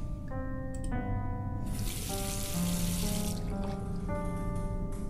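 Water runs steadily from a stone sink with a copper drain in the adventure game The Last Door, a continuous faucet-like splashing heard alone at low level for a few seconds.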